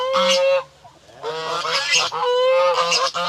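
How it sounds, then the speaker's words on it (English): A goose at a family-friendly animal cafe in Phayao, Thailand, honking in a series of loud, close, nasal calls, several honks in quick succession with short pauses between them. "Goose."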